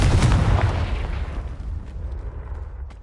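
A Confringo blasting spell explodes in Hogwarts Legacy with a heavy booming burst that rolls out and slowly fades over a few seconds.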